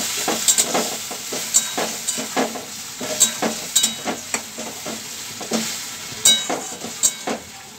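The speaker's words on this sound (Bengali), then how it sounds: "এবার পোস্ত বাটাটা দিয়ে দিচ্ছি। সামান্য হলুদ দিয়ে জল দিয়ে দিলাম।" Poppy seed paste with turmeric and water sizzles in a pan, a soft steady hiss broken by repeated scraping stir strokes that come in an uneven rhythm, close and alone.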